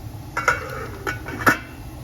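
A few light metallic clanks and taps as a cooking pot for boiling duck is moved about, each knock briefly ringing, fairly quiet against low background noise.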